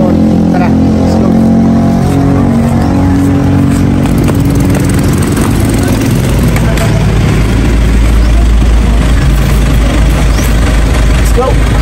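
A loud engine of a hired boat in Surigao del Norte, Philippines, drones steadily and close throughout, a low rumble that fills the whole stretch.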